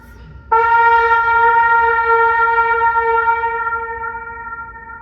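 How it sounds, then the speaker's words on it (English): A wind instrument holds a single sustained note through a flanger effect, entering abruptly and ringing with bright, rich overtones that slowly fade over several seconds, with no voices present. "Flanging is basically exactly like chorus"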